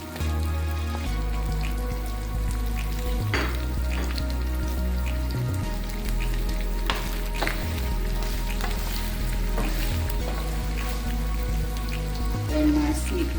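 Onion fries steadily in a pan, a continuous crackling sizzle with scattered pops and occasional utensil knocks, sitting under a low background hum throughout.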